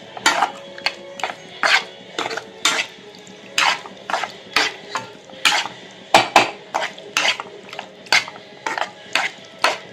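A metal spatula scrapes and clinks against a pan while prawns fry in oil, with sharp, regular strokes repeating roughly every half second, close and alone.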